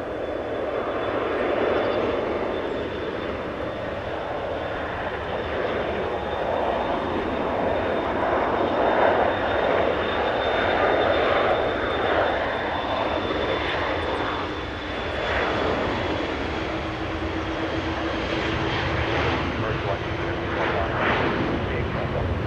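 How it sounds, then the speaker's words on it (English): An executive jet's engines roar steadily on takeoff at an international airport, a loud continuous rush with a thin high whine running throughout, while a voice talks over it. "Executive jet getting a move on."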